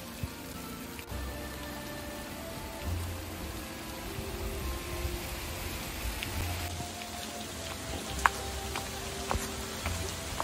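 Steady rain falls across a garden of the Garden of Five Senses in New Delhi, a dense continuous patter of drops hitting surfaces with occasional sharper individual splashes, moderately loud and alone without talk.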